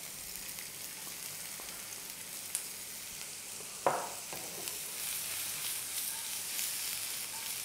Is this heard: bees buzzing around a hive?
no